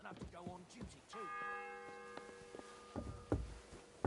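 Church bell tolling in the Kingdom Come: Deliverance II video game, a single ringing strike with a long sustained hum that fades slowly under quiet background sounds and brief voices.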